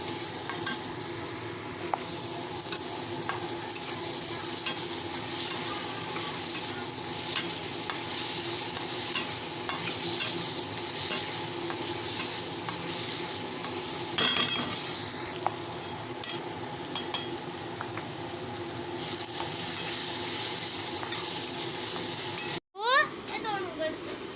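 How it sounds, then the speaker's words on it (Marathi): Vegetables and tomato sauté in a home kitchen pan with a constant sizzle and occasional stirring scrapes, moderately close, with faint background voices. "मस्त असं परतून घ्यायचं आहे आपण त्याच्यामध्ये टोमॅटो घालणार आहोत"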